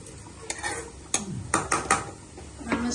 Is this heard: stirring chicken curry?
yes